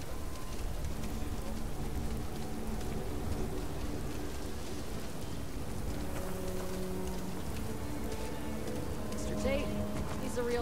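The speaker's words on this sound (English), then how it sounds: "Alright, so it's still raining" Steady rain in the video game Starfield hisses and patters throughout, with faint talking and other game sounds mixed in underneath.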